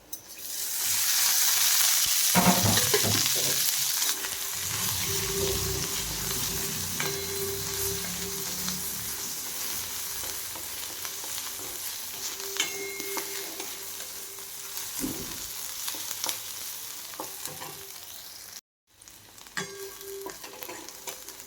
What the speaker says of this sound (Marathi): तेल टाकल्यानंतर पटकन कांदा भाजला जाईल